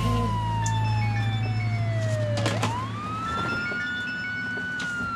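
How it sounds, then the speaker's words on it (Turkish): Emergency vehicle siren wailing in the background of a phone call, its pitch sliding down then sweeping back up in one long continuous tone, fairly prominent over a low steady hum. "Bu arkadan gelen siren sesleri ne?"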